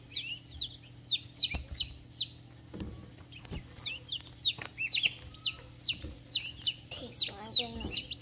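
An Ayam Cemani chick chirps and clucks over and over in quick, high, close calls, with a low steady hum underneath.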